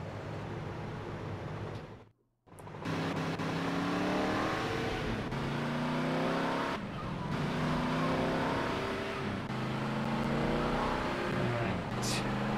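A car driving in the video game GTA Liberty City Stories: a continuous engine drone that rises and falls as it revs and shifts, loud and close throughout, with a brief cut to near silence early on.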